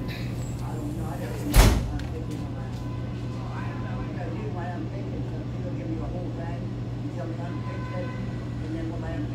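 Trailer door at a truck loading dock being pulled shut, one loud clanging slam early on over a steady engine idle, with people talking in the background.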